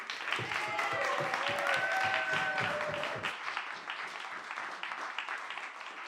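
A studio and chapel audience applauds a band, a full burst of many hands clapping with a few cheers that fades down to lighter scattered clapping near the end.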